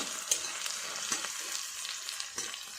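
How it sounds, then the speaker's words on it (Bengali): Onions fry in oil in a pan with whole garlic, cumin and bay leaves, a steady close sizzle with occasional sharp crackles and stirring clicks, no voices. "পেঁয়াজ ভাজা কিন্তু হয়ে আসলো"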